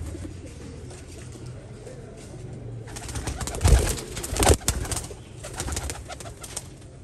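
Pigeons coo in low, soft, repeated calls against steady background rustle and noise, growing louder midway.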